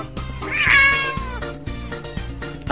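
A domestic cat meows with a rising, drawn-out call near the start, set over steady background music and faint sounds, no talking.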